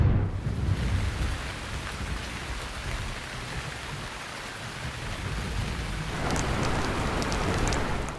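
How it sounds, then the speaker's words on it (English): Summer morning thunderstorm over farm fields, with dense, steady rain hitting the ground and low thunder rolling beneath it, the downpour swelling louder toward the end, no voices. "A summer morning thunderstorm has drenched the fields."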